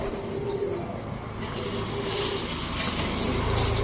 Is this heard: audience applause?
no